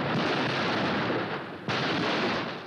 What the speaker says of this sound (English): These are the neutralization effects of artillery.